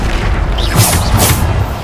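A Bombarda spell blast in Hogwarts Legacy during combat, heard as a loud, dense rumbling boom with bright bursts layered over sustained low roar.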